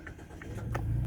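A 2.0-litre Mazda 3 hatchback with manual gearbox cranks and catches, its engine settling into a steady low idle close by, with a couple of short clicks over the rising rumble.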